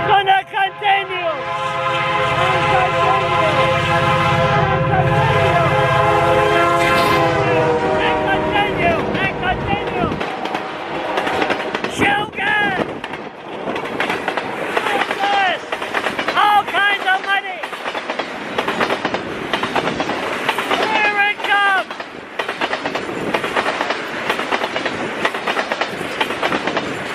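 A train rolls past on its way to a refinery in Saint John, New Brunswick, with a long, loud horn blast near the start, then steady clickety-clack of railcars over the rails under some background talk.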